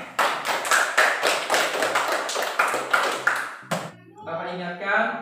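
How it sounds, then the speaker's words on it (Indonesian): A primary-school class claps its hands in a steady, rhythmic pattern of evenly spaced beats, close and fairly loud, with voices over it before a short pause and a final burst. "Tepuk tangan buat kalian semua."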